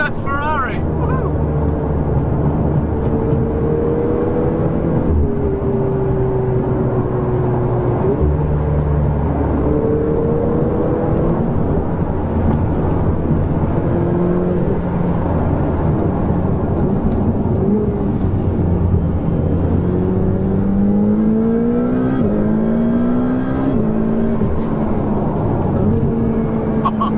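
A Ferrari 488 GTB engine pulls hard while driving, its pitch rising in repeated sweeps as gears climb, loud and continuous from inside the car.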